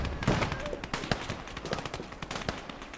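Scattered gunfire from a tank's machine guns in the urban battle game Gates of Hell, a busy crackle of short irregular bursts at middling distance, with faint voices underneath.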